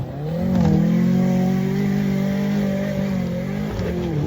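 Suzuki Jimny built for extreme off-road use, its engine revving hard on a steep climb, a loud strained mid-pitched roar that swells and wavers steadily for several seconds with no talk over it.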